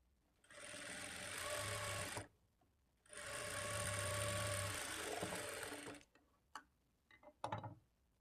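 A sewing machine stitching around a blouse shape belt, running in two steady whirring, rattling stretches close by, with a short pause between them, then a few clicks and handling knocks as it stops.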